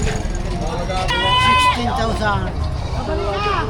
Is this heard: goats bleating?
yes